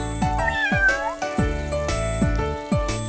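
A cartoon kitten meows several times in a high, drawn-out voice over a steady, rhythmic musical background.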